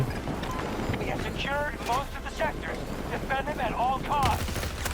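M16A3 rifle gunfire in the video game Battlefield 2042, a fast, steady crackle of shots under a dense game soundscape, with a voice talking over it.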